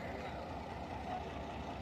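A bus pulls away in rural India on the way to a fair, its engine a steady low rumble with traffic noise, heard for just under two seconds.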